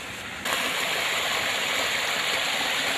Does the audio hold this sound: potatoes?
no